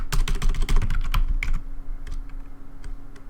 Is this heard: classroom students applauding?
no